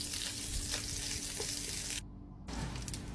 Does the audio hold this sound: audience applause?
no